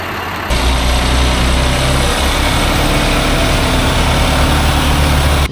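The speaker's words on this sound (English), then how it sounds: "we got truck number 2 here dumping" A dump truck at a barndominium build site runs its engine loudly and close while dumping a load, a heavy rumbling drone that kicks in abruptly and holds steady throughout.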